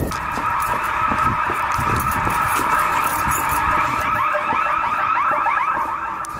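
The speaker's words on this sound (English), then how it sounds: "This is the first time we've ever set off alarms." A loud, harsh building alarm blares nonstop inside an abandoned building, a rapidly warbling electronic wail that stays constant and piercing for the whole stretch, with no talk over it.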